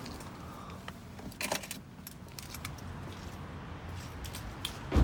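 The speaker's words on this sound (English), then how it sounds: "I'll just grab the keys from the vehicle." Car keys for a 2019 Lexus UX250h F Sport jangle in a few quick metallic bursts as they are picked up, close and moderately loud over a quiet room background.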